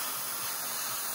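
Aerosol paint sprayed along the deck of a Revell 1/72 Type VII C model submarine, a steady close hiss lasting about a second with no talking.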